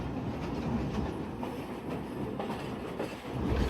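A train rumbles steadily past at Lala Musa Junction station in Pakistan, with continuous loud rolling noise and faint rhythmic wheel clatter throughout, no voices.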